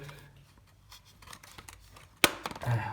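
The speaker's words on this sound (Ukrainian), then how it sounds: "застібується з таким звуком, ніби трісло" A plastic clasp on a small, simple tripod snaps shut with one sharp, loud crack that stands out against quiet handling noise, followed by a short faint rustle.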